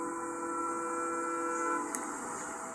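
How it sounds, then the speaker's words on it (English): An approaching train blaring its horn, heard as a steady, sustained horn tone over a low rail rumble that holds for nearly three seconds, fairly faint and with no talk. "the train, fast approaching, starts blaring its horn to warn them to get the heck out of the way"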